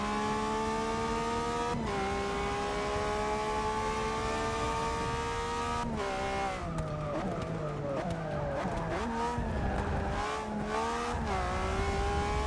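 A Pagani Zonda race car engine in Forza Motorsport 6 holds a high, steady whine through long pulls, dropping sharply at gear shifts and then wavering through rapid revving and brief tire skids.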